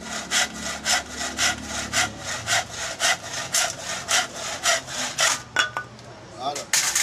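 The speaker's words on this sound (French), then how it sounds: "il faut que la scie soit vraiment tranchante" A sharp hand saw cuts through a hard wooden box in steady back-and-forth strokes, about a dozen even rasping pulls close up, slowing and breaking off near the end.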